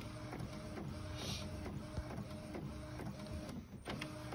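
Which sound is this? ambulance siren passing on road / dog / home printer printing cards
home printer printing cards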